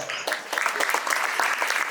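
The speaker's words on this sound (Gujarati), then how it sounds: "જોરદાર તાળીઓથી વધાવીશું" A school gathering honoring visiting NRI guests breaks into lively applause, crisp and sustained claps from a sizable crowd throughout.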